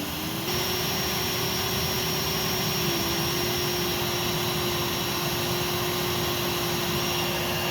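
A Simplicity Quicksilver vacuum cleaner running on its low setting gives a steady, loud motor whine and airflow roar that holds unbroken throughout, close up, with a faint pitch shift near the start and no talking.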